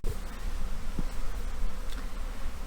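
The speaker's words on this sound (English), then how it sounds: "hopefully they'll have the bees coming to the entrance again. And you can start seeing that they're already fanning" A dense, steady drone of a honey bee swarm buzzing and fanning at a nucleus hive entrance, close and continuous, with individual bees whizzing past the microphone now and then.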